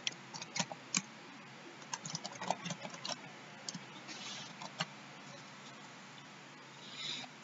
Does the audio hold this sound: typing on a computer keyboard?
yes